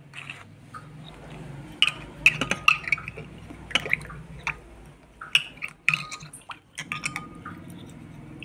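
Silver items being rinsed in water after cleaning, with scattered drips, light splashes and small clinks that come close together and stand alone with no talk.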